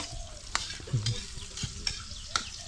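Garlic and onion sizzle steadily in a hot pan while a utensil scrapes and stirs them in several clear strokes, close by and with no speech.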